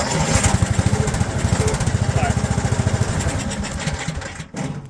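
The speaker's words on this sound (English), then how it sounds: "and it'll fire right up. So really happy with that Briggs motor." A Briggs motor on a miniature train fires up and runs with a loud, rapid, steady putter close by, like a small lawn-mower engine, then dips briefly near the end before picking back up.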